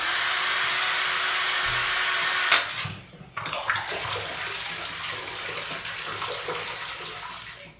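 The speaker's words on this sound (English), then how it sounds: "give it at least 3 rinses and shake so you get everything out" Beer bottles being rinsed, a loud rush of running tap water that cuts off abruptly, then softer splashing and sloshing as water swirls and shakes inside the glass bottles.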